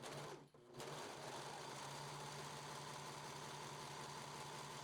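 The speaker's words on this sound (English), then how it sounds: "we're serging the side seams, the hems, and of course also the shoulder seams" A serger overlocker runs steadily while stitching the side seams of a blouse, a continuous fast mechanical whir after a brief stop near the start, close and moderately quiet with no talking.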